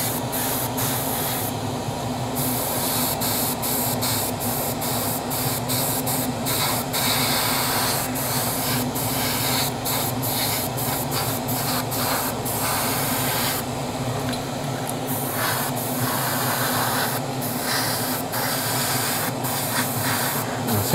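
Steady airbrush hiss from a compressor-fed gun laying light coats of paint on a Tamiya Castrol Celica WRC model body, a continuous close spray with a few brief pauses and rises in pressure, no talking.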